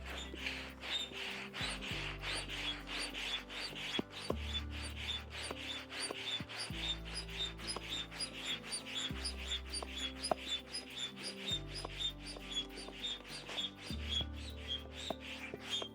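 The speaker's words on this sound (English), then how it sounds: "So I'm gonna pump it up to the recommended PSI just to feel it as they recommended." A brand-new F-ONE Swing V4 wing is inflated on land with a hand pump. Repeated strokes come roughly every two seconds, each with a low thump and a rasping rush of air, close by and steady, with no talking.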